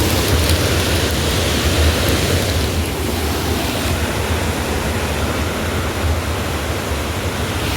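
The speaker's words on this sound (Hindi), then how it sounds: "अब आप रिवर का पीसफुल शोर सुन सकते हैं" River water rushing steadily near Darjeeling, a constant broadband roar with no breaks or voices, loud and close throughout.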